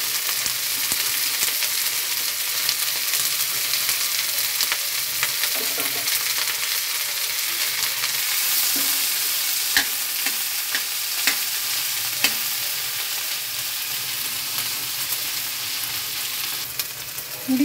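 Cut ivy gourd frying in oil in a pan, a continuous soft sizzle with faint stirring clinks and scrapes throughout, close and steady with no talking.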